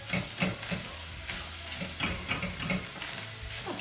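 Food being stirred as it fries in a pan over fairly high heat while cooking German food: a steady sizzle with repeated scraping, clattering stir strokes close by, no talking.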